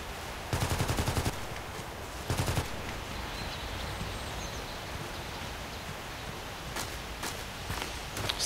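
Two short bursts of automatic gunfire in the Contract Wars video game, each lasting under a second, a little distant over a constant noisy background, followed later by a few fainter scattered shots.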